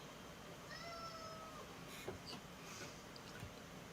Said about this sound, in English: You hear these crazy meows coming from the background.